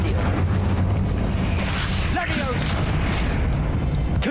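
Incendio fire spell cast in Hogwarts Legacy, a dense, whooshing burst of fire and rumbling impact sounds under a spoken voice, with a brief swooping tone in the middle.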